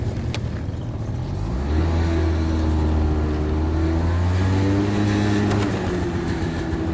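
A small Honda Dio AF34 scooter engine revs up and accelerates, its pitch climbing as harmonics rise, then holds a steady drone close by; no voices.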